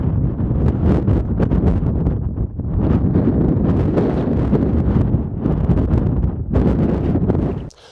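Strong wind gusts roar and buffet the microphone during a severe city dust storm with a brown haze, a loud continuous rush that surges and dips before cutting off abruptly at the end.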